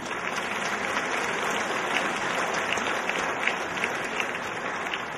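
Sustained applause from an audience at the Miss Orléanais 2014 beauty pageant election, welcoming jury guest Sylvie Tellier, director of the Miss France organisation; dense, steady clapping fills the room at an even level throughout.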